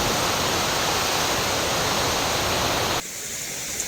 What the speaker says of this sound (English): to be this close to a big waterfall like this is truly amazing